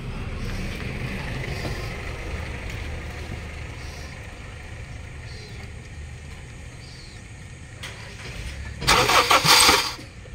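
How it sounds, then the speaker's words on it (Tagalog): A Honda CR-V second generation engine with a misfire cranks with a long rumbling drone, then a loud burst of noise as it catches near the end. "i-start mo nga kay Rick."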